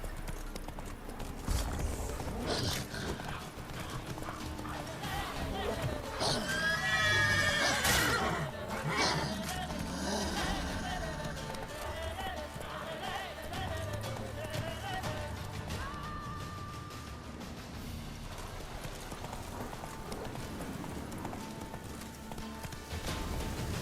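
Horse named Roach galloping in a video game, continuous rhythmic hoof clip-clop with a loud whinnying neigh midway, over game music and ambience, with someone speaking briefly.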